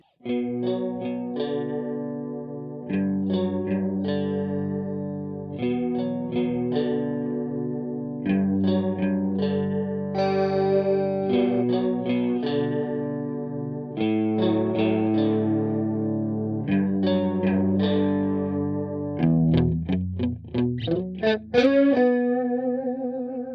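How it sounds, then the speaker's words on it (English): Electric guitar through an ADA MP1 preamp plays chords and arpeggiated notes with a lush, shimmering chorus effect, with a smooth, wavering, dreamy tone throughout. No talking. "Got that smooth, dreamy chorus."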